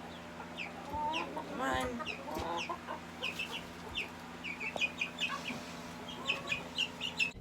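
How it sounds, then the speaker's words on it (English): Backyard homestead chickens clucking in short, scattered bursts at moderate distance, with a brief voice calling to them. "I already let out the chickens this morning"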